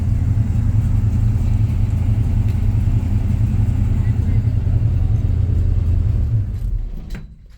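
A 1967 Chevrolet Suburban engine sticks at high idle, a close, loud and steady low rumble that runs unbroken for several seconds before dropping away at the end.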